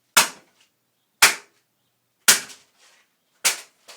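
Four sharp, hard smacks at roughly one-second intervals, each a crisp impact with a short rattling decay, as a fist hits a dense, hard iron training bag.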